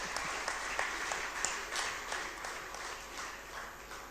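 Audience applause at a reunion gathering on stage, a steady wash of clapping from a crowd with a few sharper individual claps standing out, continuous throughout at moderate level.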